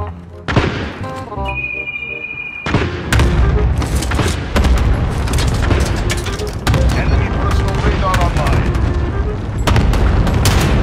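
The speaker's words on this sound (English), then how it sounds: "Enemy cluster strike incoming. Take cover." Enemy cluster strike in a video game sets off heavy booming explosions and rattling gunfire, loud and dense, with game alerts and a voice heard over the chaotic blasts.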